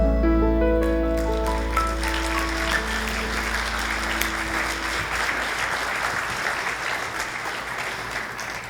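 Audience applause after a song at an Advent gathering, starting as the last sustained music notes ring out and continuing as a steady wash of clapping that gradually thins.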